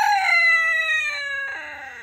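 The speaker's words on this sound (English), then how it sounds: "My two silky rooster is fighting." A silkie rooster gives a short, strained crow, loud and close, trailing off into a lower tone.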